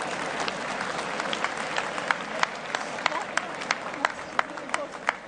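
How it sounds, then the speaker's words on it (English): A boxing crowd applauds after a women's WBO/WIBF title fight, a dense wash of clapping with sharp individual claps standing out, fairly loud and sustained throughout, with faint crowd murmur beneath. "getting a very good sporting round of applause from the crowd"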